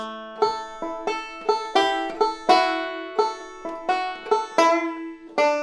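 A banjo plays a short two-bar passage from Freight Train, about a dozen bright plucked notes that ring and decay in an uneven, lively rhythm.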